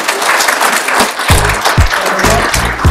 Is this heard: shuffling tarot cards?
no